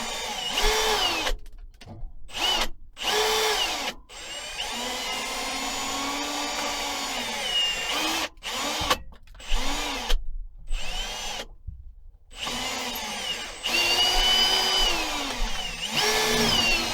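A power drill fitted with a fresh bit whines in repeated runs against a lead-sealed joint with oakum behind it, pitch sagging under load, broken by several short pauses.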